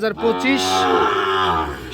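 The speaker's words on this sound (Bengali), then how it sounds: "আর আমাদের সামনে দেখতেছেন যে বেশ কিছু বাছুর গরু সার বাছুর গরু" A Sahiwal calf at a village cattle market in Birampur, Dinajpur, lets out one loud, close, drawn-out moo lasting nearly two seconds.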